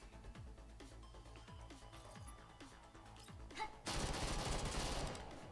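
Gunfire in the shooter game Girls Frontline 2: Exilium, a run of sharp repeated shots with low thumps, swelling into a dense, loud burst of firing and impacts near the end, with no talking.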